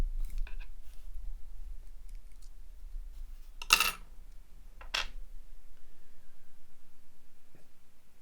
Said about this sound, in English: we will start by removing the cap.